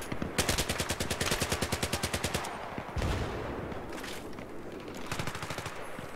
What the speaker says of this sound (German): Und die Typen schießen mit Schrot